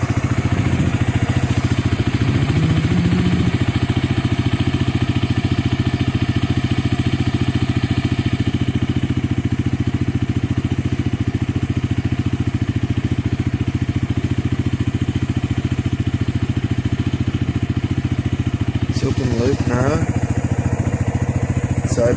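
Suzuki GSX-S 125 motorcycle engine idling while it runs lean, a loud steady low drone with a faint clattering edge that holds unchanged for over twenty seconds.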